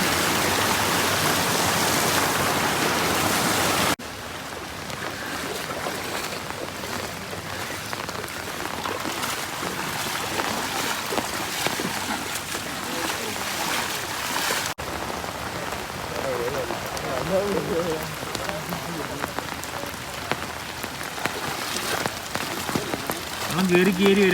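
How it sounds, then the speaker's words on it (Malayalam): Heavy rain pours steadily on surfaces as a dense, constant hiss, with faint voices now and then beneath the downpour, on a flooding garden path in Kottakkal. "ഇത്രയും മഴ"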